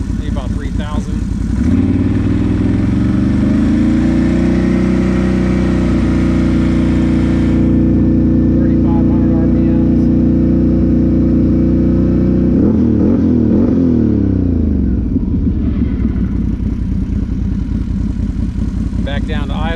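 A Can-Am Renegade XMR 1000 ATV engine climbs and holds a loud, steady rev around 3,000 RPM, then drops back, with a close, throaty exhaust tone throughout.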